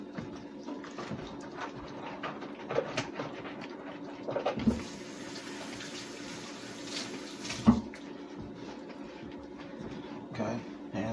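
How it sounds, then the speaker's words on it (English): Tap water runs faintly while hands are washed in a kitchen during seafood prep, a soft continuous trickle with occasional small clatters and splashes. "So, I'm gonna wash my hands."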